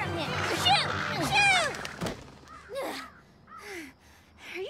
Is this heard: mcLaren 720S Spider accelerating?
no